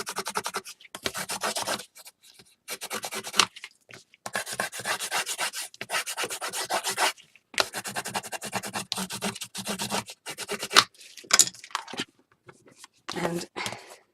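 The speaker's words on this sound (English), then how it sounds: "So now I'll give this a really good burnish." A post-bound album cover is burnished by hand in bursts of close, dry rubbing and scraping strokes separated by short pauses.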